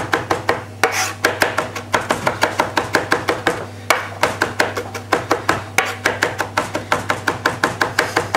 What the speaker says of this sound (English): So keep running the blade through like so.